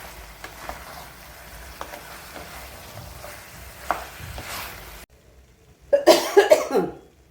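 Chicken is stirred in a hot pan for a home-style roast, with soft scraping and a quiet sizzle broken by light clicks, then a brief silence and a louder burst of clattering stirring.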